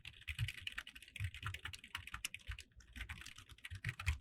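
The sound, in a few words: typing on a computer keyboard in Notepad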